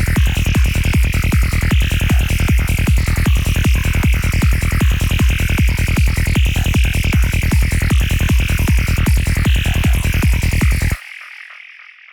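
A darkpsy FM synth lead built in the Vital synthesizer plays with a driving kick and bass: a loud, steady, rapid four-on-the-floor pulse under a bright, buzzing lead for about eleven seconds, then the mix cuts off and a short tail fades.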